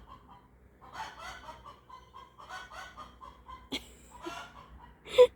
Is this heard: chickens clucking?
yes